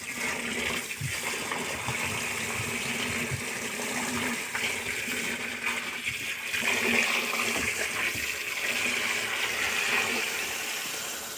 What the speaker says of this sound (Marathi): आता याच्यात आपण पाणी टाकून घेऊ